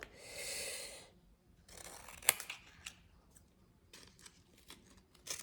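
Scissors cut a sheet of paper in half for a handmade mini album: a long rasping slice at the start, then a sharp snip and several lighter close clicks and rustles.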